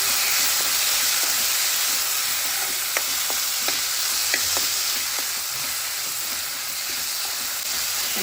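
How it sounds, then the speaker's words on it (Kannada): Tomatoes frying in oil in a pan, a steady loud sizzle and hiss with scattered light clinks and scrapes of stirring; close, with no talking. "ಅದನ್ನು 1-2 ನಿಮಿಷ ಫ್ರೈ ಮಾಡಿ ನಾನು ಟೊಮೆಟೊ ಹಾಕ್ತಾಯಿದ್ದೀನಿ"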